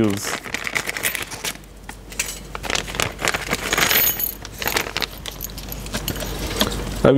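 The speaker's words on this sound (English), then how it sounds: "in here we have two washers and some bolts" Metal washers and bolts for fitting an NRG Forged quick release hub to a Mazda MX5 being handled, giving close clinking, jangling rattles through the clip with a voice talking over them.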